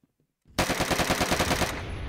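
Rapid automatic gunfire in the Roblox-style shooter Phantom Forces on a close-quarters metro map, a sudden dense burst of about a dozen evenly spaced shots, loud and close, lasting over a second.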